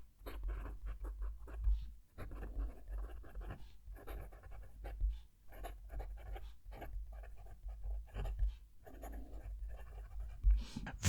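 A TWSBI Eco fountain pen nib scratches roughly across paper in close, continuous strokes with short pauses, alongside a steady low hum and no talking.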